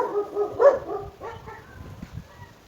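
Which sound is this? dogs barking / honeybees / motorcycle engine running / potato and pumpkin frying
dogs barking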